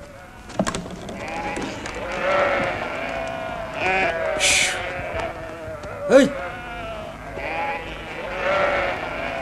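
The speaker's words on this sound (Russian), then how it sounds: "Выпускайте овец!" Several sheep bleat close by, overlapping calls rising and falling, while a person shouts briefly amid rustling movement.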